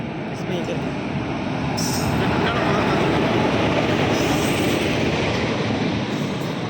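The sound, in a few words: train approaching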